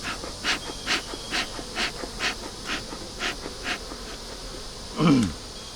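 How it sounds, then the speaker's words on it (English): A dense insect buzz with repeated louder swells about every half second, then a brief rougher burst near the end; close and fairly loud, no speech. "there's a lot of bees in here"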